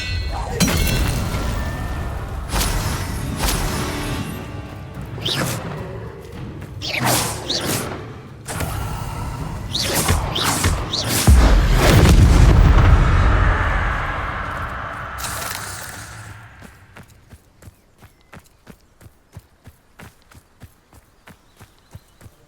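Confringo spell blasts and other combat effects in Hogwarts Legacy gameplay on Xbox Series X: a string of sharp bursts and booms with a loud rumbling explosion near the middle, followed by a steady sequence of light, rhythmic footsteps.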